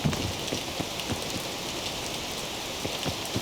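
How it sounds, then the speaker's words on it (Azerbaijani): Steady rainfall patters softly in a video game, a low continuous wash broken by scattered droplet taps, heard alone. "Hadi o da yağış geçsin sonra."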